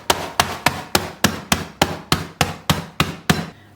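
A rolling pin beats biscuits down into crumbs with eleven sharp, evenly spaced thumps. The strikes are close and loud, then stop, and nobody speaks.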